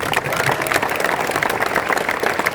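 Audience at a Denver fan expo panel with Ralph Macchio breaks into steady, dense applause, a continuous wash of many hands clapping at close range for the full stretch.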